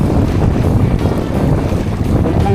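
Strong wind roars steadily across the microphone aboard a fishing boat at sea, with waves and water rushing continuously and loudly throughout and no voices.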